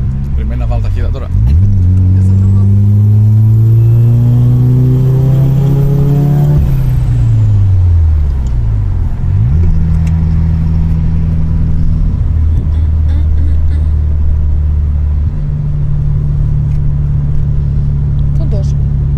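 A Mazda RX7 FC and a Toyota Supra Mk3 race, their engines roaring loudly as they rev up, shift gears and pull away in repeated rising sweeps, with a steady drone underneath.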